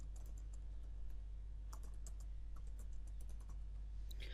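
Typing on a computer keyboard, quick irregular clicks of keys close by over a low steady hum, with no one speaking.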